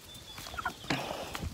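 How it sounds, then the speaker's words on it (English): Chickens clucking close by in a farmyard pen, a short burst of soft clucks and squawks with no one talking over them. "Chickens are crazy."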